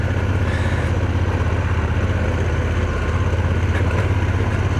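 A Honda Africa Twin motorcycle engine drones loud and close on a steep dirt mountain road with creek crossings, a steady throbbing rumble with no clearly distinct gear change or rev rise.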